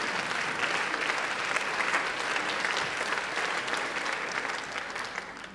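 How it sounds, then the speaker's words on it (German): Sustained audience applause at a German political event celebrating ten years of the party DIE LINKE, a dense, steady clapping crowd filling the whole stretch at even loudness. "Applaus"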